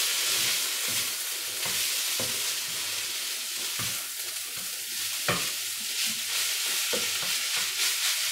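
Chicken Rogan Josh being stirred in a frying pan, a steady close sizzle broken by repeated scraping strokes of a utensil against the pan, with no talking.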